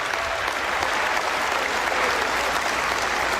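A graduation audience claps in steady, sustained applause, dense and even from start to finish with no voices rising above it.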